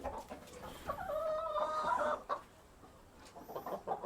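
A farm turkey hen sitting on eggs clucks and gives a short warbling call, close and fairly quiet, with a few softer clucks after a pause.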